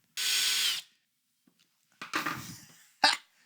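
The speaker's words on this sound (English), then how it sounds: "I've got to countersink 1 by the tiniest amount." A power drill countersinks a hole during a resin 3D printer upgrade, with a short high whine followed by two rougher grinding bursts separated by pauses, close and alone.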